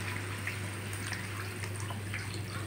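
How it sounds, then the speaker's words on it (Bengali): Water poured into a pot of cauliflower and potato curry, a steady close, continuous watery wash lasting throughout over a low constant hum, with no talking. "এবার জল দিয়ে দেব।"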